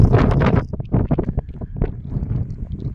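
Strong wind buffets the microphone in heavy, uneven gusts on Ailigas fell in Utsjoki, Finland, loud and close, with no voices.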